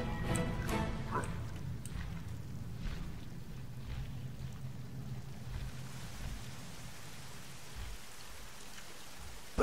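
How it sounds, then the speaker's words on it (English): Rain falling in EverQuest II, a steady soft patter and hiss with a low rumbling bed, moderately quiet and continuous, a few heavier splashy bursts near the start. "Although it's raining, so it's not really that sunny."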